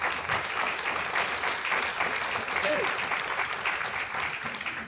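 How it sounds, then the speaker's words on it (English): Audience applause fills a Galveston welcome session honoring an Economic Development Office group, steady dense clapping throughout with a faint voice underneath. "So y'all give this whole entire group a big round of applause."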